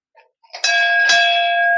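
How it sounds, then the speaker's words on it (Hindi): A metal temple bell at a Bajrang Bali (Hanuman) shrine beside a wrestling akhara is struck twice in quick succession after a few faint taps, ringing out clear and close with a long sustained tone. "तो घंटी बजाते हुए यहाँ पे बजरंग बली को प्रणाम करते हैं।"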